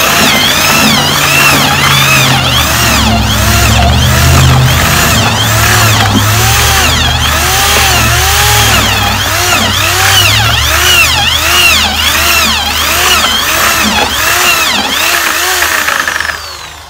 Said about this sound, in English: I'm going to take this drill and a paint mixer. I'm going to blend it all together.